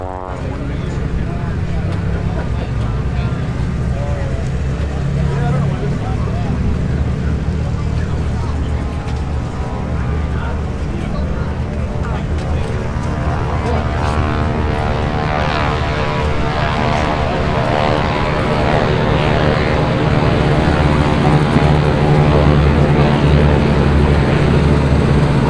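Propeller warbird engines, such as Corsairs and P-51s, drone continuously at the EAA AirVenture 2021 airshow, a loud, steady roar that swells slightly toward the end, with people talking over it.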